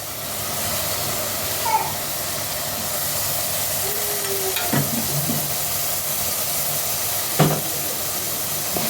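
Grated carrots sizzle in a frying pan with a steady hiss, broken by a few scraping stirs of a utensil at close range.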